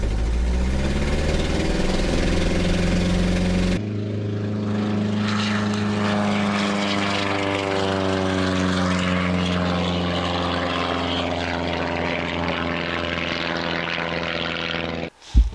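A modified propeller airplane on a tower-cleared takeoff roll from runway 27 runs at steady full power, a loud continuous engine and prop drone with strong low harmonics that holds without a break until a sudden cutoff near the end.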